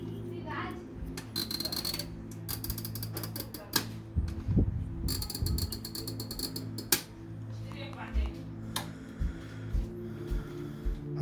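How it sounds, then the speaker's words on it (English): An electric kitchen oven's timer knob is twisted by hand, giving a run of small, dry mechanical clicks and ticks over a steady low hum, with a faint voice in the background. "So twist until you hear the click and then push start."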